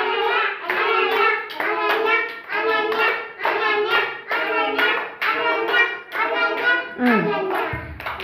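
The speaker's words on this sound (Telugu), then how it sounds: "క్లాప్స్ కొట్టండి." Children clap their hands together in a group during an indoor play activity, a rhythmic burst of close claps mixed with voices talking and chanting over them.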